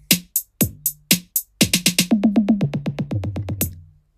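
A programmed drum fill in BandLab: a few sharp snare hits, then a rapid run of toms stepping down from high to low toms, about a dozen quick, punchy strikes, clean and close with no talk.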